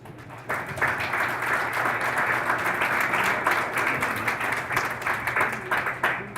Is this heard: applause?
yes